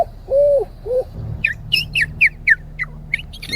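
A boy mimics bird calls with his mouth, starting with two low hooting coos and moving to a quick series of sharp, high chirps and whistles. The calls come one after another, close and clear, with no other talk.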